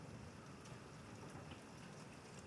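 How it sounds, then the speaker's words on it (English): Heavy rain falling outside a window during a Hill Country storm, a dense, even hiss of rainfall, steady and fairly faint, with no voices. "it's coming down, raining pretty good"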